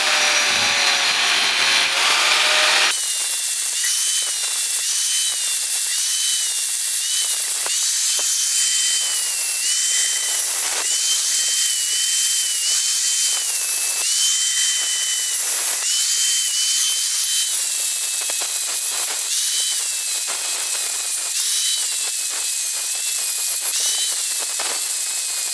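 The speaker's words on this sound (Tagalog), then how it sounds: "Pasensya na kung mali ang paghawak ng angle grinder." An angle grinder cuts metal for a portable vulcanizing tool, a loud, continuous high-pitched whine and grinding hiss that wavers in pitch as the disc bites, steady and close from start to finish.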